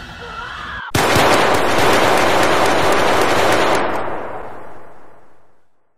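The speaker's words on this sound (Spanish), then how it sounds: "sus palabras son silenciadas por los resonantes disparos a quemarropa de nuestras armas de fuego" Point-blank gunfire inside a vaulted building: a sharp onset into a dense, loud burst of rapid shots lasting about three seconds, then a long reverberant echo tailing off; a faint voice is heard just before.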